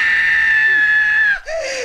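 A woman's high, sustained scream during a tobacco-shop robbery rings out loud and close for over a second, then breaks off briefly and resumes with a shorter cry.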